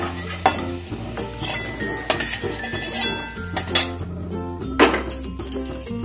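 Metal utensils clink and scrape against a pan as fried bitter gourd pieces are lifted out on lowered heat, with a soft sizzle underneath; several sharp clatters stand out, close by.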